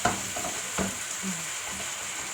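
Eggplant adobo (adobong talong) with tomato and black pepper stirred in a frying pan: a steady sizzle with soft scraping strokes from the utensil, close up and alone.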